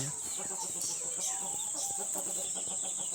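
Chickens, including a white rooster, cluck and chatter nearby in quick, uneven bursts over a constant high-pitched background hiss, with no talking.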